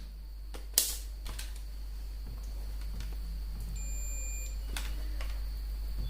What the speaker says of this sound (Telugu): దీని అయితే బజర్ మోడ్లో సెట్ చేయండి.